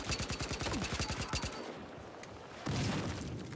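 Rapid automatic gunfire from Battlefield Hardline multiplayer rattles in a dense burst, then breaks off and gives way to further crackling shots, loud and close.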